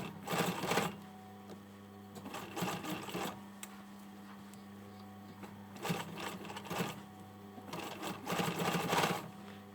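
A sewing machine topstitches a hoodie neck edge in four bursts of rapid whirring stitches separated by short quiet pauses, heard close up with no talking.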